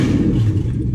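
A Mk3 Toyota Supra with a swapped 1UZ-FE VVTi V8, running without an exhaust, gives a loud, low engine rumble close by, running steadily with a slight rise in revs.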